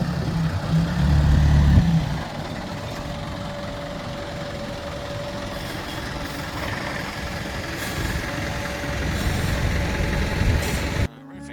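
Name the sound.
concrete delivery truck idling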